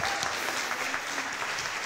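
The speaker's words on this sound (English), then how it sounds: "So can we have a round of applause for our seaweeds, young and old?" An audience at a church service applauds, a dense, even wash of many hands clapping together without a break.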